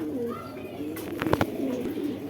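Pakistani Giribaj pigeons give soft, close coos, with a brief sharp flutter or clatter partway through.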